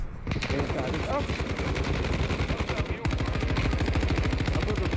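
Automatic gunfire in the video game Warzone 2 rattles in dense, rapid bursts. A brief break near the middle is followed by another long, loud stream of shots.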